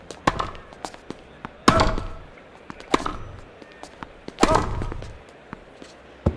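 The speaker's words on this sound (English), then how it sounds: "Driving backhand down the line, which has been a very good shot today." Racket strikes in the Grand Slam Tennis 2 video game, a series of crisp thwacks and thuds spaced about a second apart, with bursts of crowd-like noise swelling after some hits.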